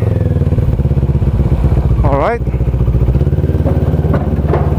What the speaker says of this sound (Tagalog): Sasakay natin ng barko ang ating motor.